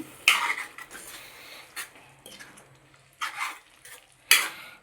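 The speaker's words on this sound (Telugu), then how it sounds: "నేనైతే గోంగూర అయితే దీంట్లో కలిపేసాను" Gongura leaves being stirred into a dried prawn curry in a pan, with a spoon clinking and scraping against the metal in a few sharp bursts between quieter stirring, no talking.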